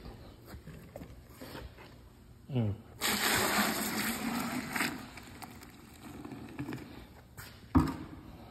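Water poured into a carpet shampoo machine while detailing a 2010 Mitsubishi Outlander's interior, a steady hissing splash lasting a couple of seconds, close by, with people talking around it.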